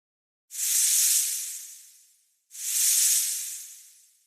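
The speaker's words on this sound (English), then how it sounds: "Snake." A snake hisses twice, each a long airy burst that swells quickly and slowly fades, with a short silence between them.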